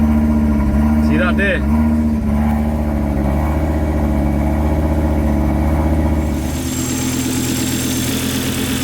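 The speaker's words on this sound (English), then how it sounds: "Crank the ignition a couple of times. Sounds pretty similar." A Volvo T5 engine, in an ex-police car with faults, is cranked and settles into a steady low idle with a constant rumbling drone. A brief speaking voice comes in near the start over the engine, which runs on throughout.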